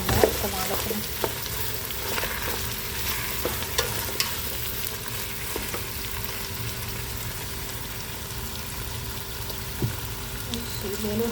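Green beans, carrots and potatoes fry in a pan with a dense, even sizzle that runs the whole time, punctuated by occasional light taps and scrapes of stirring.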